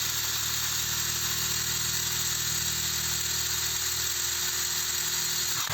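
A SHARKPRO THOR 1500 cordless impact wrench runs at third speed, giving a loud, steady high-pitched whine with a dense hammering buzz that holds constant before cutting off at the end.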